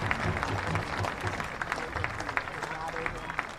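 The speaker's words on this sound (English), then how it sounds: "applauding North Carolina Fusion as they walk off the podium." Menace fans at the 2021 USL League Two National Final give sustained crowd applause as North Carolina Fusion walk off the podium, a dense, even wash of clapping with a commentator talking over it.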